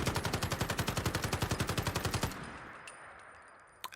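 Full-auto 5.56 burst from a modded Steyr AUG rifle in Fallout 4: a rapid, steady stream of loud, close shots lasting a little over two seconds, then a fading reverberant tail with a faint click at the end.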